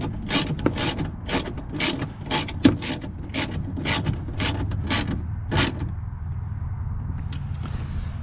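A ratchet tightens bolts on a 2007 Impala window regulator, giving about a dozen close, regular clicking strokes before stopping, followed by low background hum.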